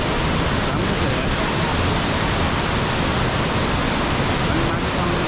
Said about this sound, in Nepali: झरना भन्ने चाहिँ रहेछ